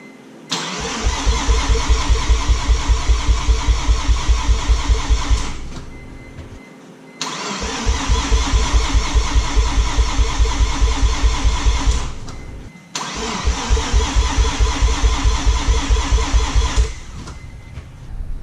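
A Mazda RX7 FD rotary engine cranks on the starter in three long bursts of rapid rhythmic chugging, each about five seconds, with brief silences between, never catching.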